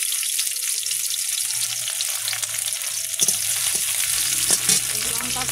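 Garlic fries in hot oil in a wok with a loud, continuous crackling sizzle and a few stirring scrapes, heard up close without talk.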